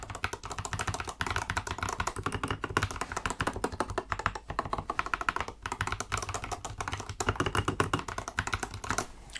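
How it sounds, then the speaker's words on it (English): Fast continuous typing on a Tecware Phantom Plus Elite wireless mechanical keyboard, dense close clacking keystrokes with a few brief pauses, heard alone without voices. "does it make any difference to the noise with the cover on?"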